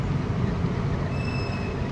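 A steady low grinding scrape from a warped brake disc, continuous and fairly close, with a faint high squeal drifting in partway through.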